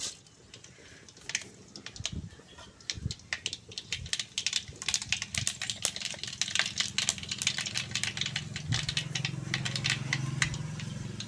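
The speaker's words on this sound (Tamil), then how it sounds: "கடுகு நல்லா பொரிஞ்சிச்சு" Mustard seeds splutter in hot oil over a village wood-fired stove, a dense run of sharp, close pops and crackles that grows busier and more continuous over time.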